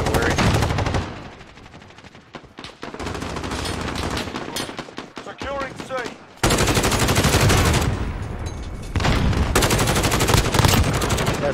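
Rapid automatic gunfire from a Modern Warfare match, heavy bursts of loud close shots alternating with quieter stretches and a short lull, with faint voice or game chatter underneath.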